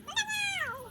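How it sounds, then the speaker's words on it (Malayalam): A single drawn-out cat meow, close and clear, rising then sliding downward, with faint background noise. "ഇവിടെ വാട പൂച്ച"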